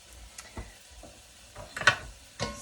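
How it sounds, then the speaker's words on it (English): A spoon stirs carrots in a lentil vegetarian soup pot, giving a few scattered soft scrapes and knocks with light sizzling, quiet and close. "Stir it."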